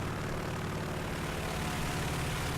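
A steady, droning propeller fighter plane engine in a World War II-style video game roars continuously at close range, with a low rumbling hum and no pauses.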